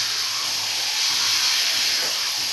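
Paneer frying with spices in a pan for a potol and potato sabzi gives off a steady, loud, even sizzle with no breaks.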